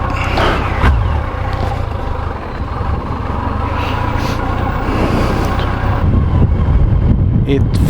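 Yamaha FJR 1300 touring motorcycle on a test ride, its engine a steady low drone mixed with road rumble and wind buffeting on the microphone throughout.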